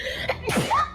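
A single sharp sneeze, close and loud, lasting under a second in a group game session among friends.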